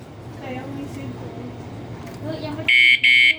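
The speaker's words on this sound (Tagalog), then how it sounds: "pag ginalaw ko pang isang beses ito, ayan, nag-alarm na siya" A 71cc Evo Powerboard scooter's anti-theft alarm goes off when the scooter is moved: two loud, shrill electronic beeping bursts follow a man's speech and engine-like rumble.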